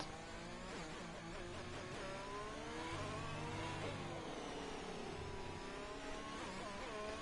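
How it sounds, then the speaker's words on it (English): Ferrari race car engine in a racing video game, a continuous loud mid-pitched roar with rising and falling revs, steady throughout and no talking. "There comes the Ferrari now."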